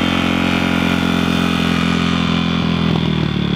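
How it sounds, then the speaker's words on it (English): A motocross dirt bike engine at a sand track roars loudly and continuously, close by and steady throughout, drowning out everything else. "they're revving the bike up"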